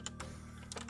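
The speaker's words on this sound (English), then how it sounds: "Is my keyboard like a good amount of audible, or is it too loud or too quiet?" Quick, quiet computer keyboard keystrokes clatter in short bursts during a game of TETR.IO, over a low steady hum, with no talking.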